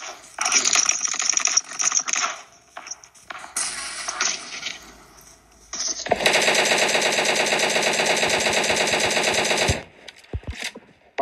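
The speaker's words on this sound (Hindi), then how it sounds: "मैं इसको कवर फायर देता हूँ" Rapid automatic gunfire from a PUBG match on the Livik map, laid down as cover fire: an earlier stretch of bursts, then a long continuous rattling volley of about four seconds, loud and close, followed by a few scattered shots.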